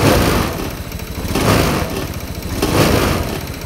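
A motorcycle engine revved at medium throttle, loud and close, its rough mechanical drone swelling and easing in three slow waves.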